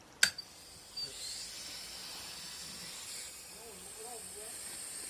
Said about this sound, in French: Là on a allumé l'eau.